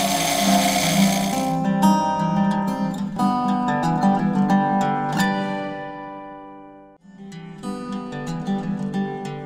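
A wood lathe turns ebony inserts against a gouge: a broadband cutting rush at first, then a ringing, whining tone with rhythmic chatter. It briefly drops out near the end before resuming, loud and close with no talk.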